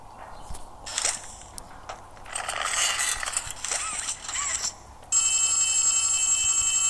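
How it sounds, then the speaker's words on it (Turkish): A telephone rings in the video game Poppy Playtime Chapter 4, a steady bright electronic ring that takes over near the end after a few mechanical clicks and rattles. "Telefon çalıyor."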